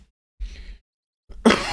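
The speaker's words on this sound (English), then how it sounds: "My cough just won't go away, guys." A single coughing fit from a nearby man during a Battle Brothers gaming session, a short harsh burst followed after a pause by a louder, rougher cough.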